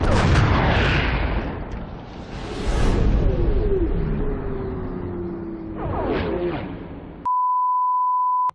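Explosions and booming blasts in an anime action scene, loud and continuous with whooshes and rumbling bursts throughout, followed by a steady censor-style beep tone at the end.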